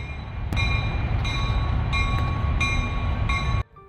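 A train rolling past along the bank of the Sacramento River, a loud steady rumble with metallic squeals and periodic clicks from the wheels, close by, ending abruptly.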